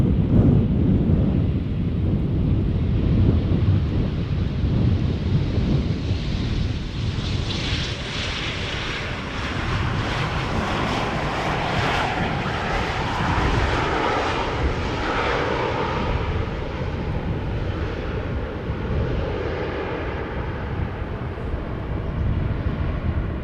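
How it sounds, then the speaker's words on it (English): KLM Embraer 190 jet touching down, a sustained roaring engine wash that swells and sweeps past in the middle before easing off, heard from a distance outdoors with some wind buffeting and no talk. "Embraer 190. Now touching down after 1 hour and 11 minutes of flight."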